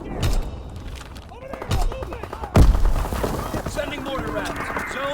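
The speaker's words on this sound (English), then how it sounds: "Sending mortar rounds." Mortar rounds fire in a WW2 video game, with three heavy booming thuds spaced a second or so apart amid battle noise, under radio-style voice callouts.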